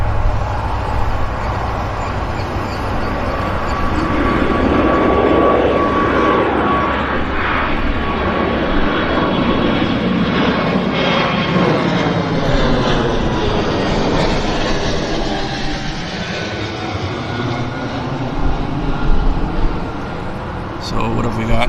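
A passenger jet takes off at Vancouver YVR airport, its loud engine roar swelling and sweeping past in a long, continuous rush while people talk nearby.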